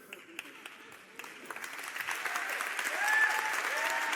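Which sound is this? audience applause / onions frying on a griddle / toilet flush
audience applause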